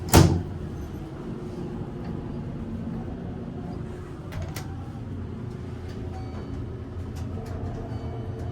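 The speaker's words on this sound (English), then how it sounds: "Instant door close." The door of a modernized 1974 Haughton traction elevator at Arlington Place One in Arlington shuts with a sharp, loud thud, then a steady, rumbling cab hum carries on with faint rattles.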